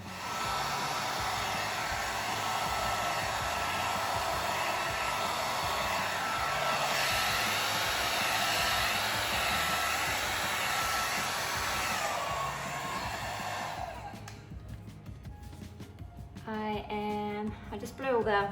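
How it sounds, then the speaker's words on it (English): A hair dryer blows steadily at close range over poured acrylic paint for most of the clip, then cuts off near the end as a voice starts speaking. "Now let's go in with the blow dryer."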